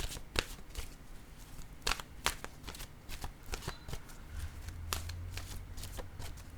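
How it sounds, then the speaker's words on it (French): Oracle cards are shuffled and drawn close by, producing soft papery riffles and crisp snaps in an irregular rhythm, fairly quiet, with a faint low hum joining toward the end. "je vais piger maintenant une carte de mon oracle de l'âme intuitive"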